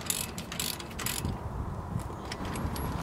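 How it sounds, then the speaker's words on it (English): Ratchet tightening front brake caliper bolts during a wheel bearing job: rapid clicking bursts early, then a steady mechanical rasp, close and loud. "Now once both bolts are in place, tighten them down with the ratchet."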